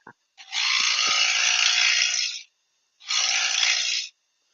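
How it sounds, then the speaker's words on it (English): Wood is sanded in two sustained, raspy strokes, the first about two seconds long and the second shorter after a pause; close and fairly loud, with no talk. "I just want you to start sanding"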